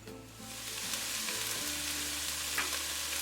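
Diced onion frying in a pan until soft and translucent, giving a steady, close sizzle that holds without a break and stands alone with no voices.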